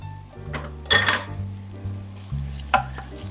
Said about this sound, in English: You want to hear that sizzle.